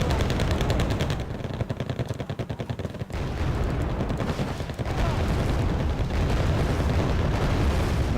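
Tornado jets firing on infantry in the Wargame video game sound like dense, continuous rapid gunfire and cannon bursts layered with rumbling explosions, loud and sustained throughout.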